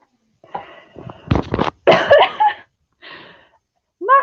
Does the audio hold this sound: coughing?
yes